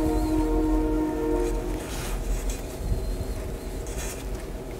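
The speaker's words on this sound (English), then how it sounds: "Oh, train going by, Callie." A steady low rumble of a passing train with a faint horn-like tone early on, heard from a distance with no talking.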